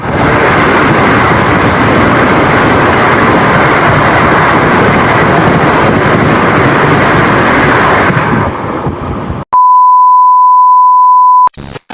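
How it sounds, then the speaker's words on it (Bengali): The Howrah–Puri Vande Bharat Express, train number 22895, arrives with a loud, close, continuous rush of wheels and rumble that fades out, followed by a steady electronic beep tone. "তো এবার আমাদের যে ট্রেনের সাথে দেখা হতে চলেছে ট্রেন নাম্বার"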